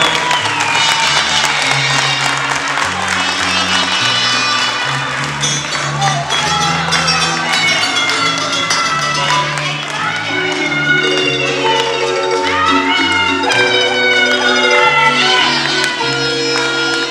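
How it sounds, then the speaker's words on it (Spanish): Audience applause and cheering for mothers at a concert inside a prison in Jamundí, a dense crowd clapping loudly under live music throughout. "Regalemos un aplauso a todas las mamás."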